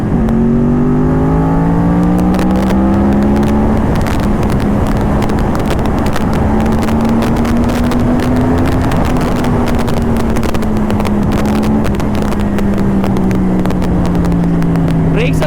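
A Yamaha R1 with a cross-plane inline-four engine and Toce exhaust revs loud and close with a deep, rising and falling engine note, wind buffeting the microphone throughout.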